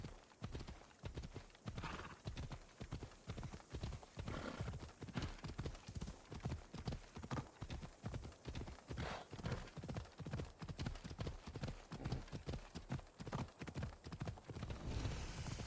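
Steady galloping hoofbeats of a horse in the video game Assassin's Creed Odyssey, rapid rhythmic clip-clop thuds continuing throughout, close and alone with no talking.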